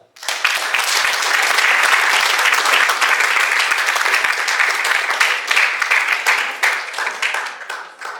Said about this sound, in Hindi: कृपया जोरदार तालियों से स्वागत कीजिए मिस सहरा चूलावाला।